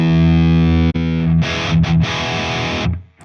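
Distorted electric guitar through a Two Notes Captor X+ amp setup, captured with a Condenser 87 microphone panned left, plays a held chord, then a brief break and thick strummed distorted chords that cut off near the end.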